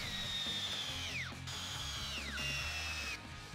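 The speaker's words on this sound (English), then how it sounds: "use your self-centering bit to drill some pilot holes" A power drill with a self-centering bit boring pilot holes to fasten a table leg to a wooden tabletop, two rising-then-falling motor whines in quick succession, close and clear.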